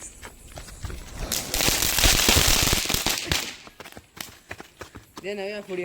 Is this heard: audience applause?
no